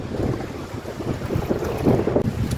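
Strong outdoor wind gusts steadily against the microphone, a loud, continuous rushing roar that lasts a few seconds with no one speaking.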